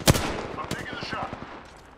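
Apex Legends gunfire: a sharp close shot opens the burst, followed by a run of quicker, softer rounds and game effects that fade out over two seconds.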